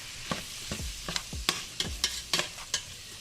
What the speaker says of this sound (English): So we want to kind of saute this until everything becomes all the vegetables become translucent